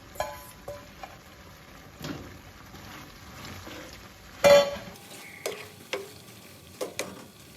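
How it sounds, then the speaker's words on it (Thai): Spaghetti with green curry sauce and shrimp stir-fried in a pan, quiet scraping stirs and occasional clinks of a utensil against the pan, with one louder clatter midway, no talking. "ก็เปิดเตาสักพักหนึ่งนะคะ ซอสเขาซึมเข้าเส้นสปาเกตตี้ค่ะ"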